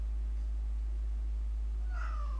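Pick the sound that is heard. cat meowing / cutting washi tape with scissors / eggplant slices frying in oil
cat meowing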